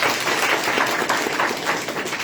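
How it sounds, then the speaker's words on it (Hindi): A church congregation applauds together in a dense, steady burst of clapping that fills the room for a couple of seconds at fairly loud volume. "आइए यीशु के लिए जोरदार ताली बजाएंगे"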